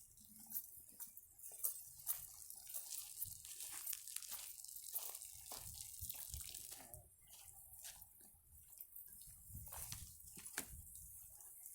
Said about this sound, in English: Now that I got the dirt on the top, I'm giving it some water.